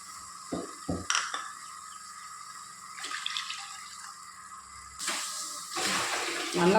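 Water pours into a pan of cooking spiced raw banana curry, a faint splashing stream near the end after quiet clinks of a utensil against the pan.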